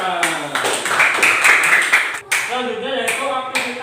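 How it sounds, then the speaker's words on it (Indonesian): Classroom clapping rings out as a quick burst of sharp hand claps from students, loud and close, fading after about two seconds while voices talk over and after it. "Ya, tepuk tangan."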